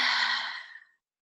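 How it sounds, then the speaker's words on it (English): A single deep breath exhaled slowly through the mouth, a soft airy whoosh that starts full and tapers away into silence. "deep breath in, and then letting it go out the mouth"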